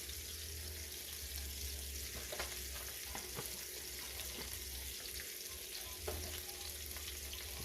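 Butter melts and sizzles quietly in a hot pan with rosemary while a ribeye steak is prepared, giving a soft, steady crackle with a few small pops.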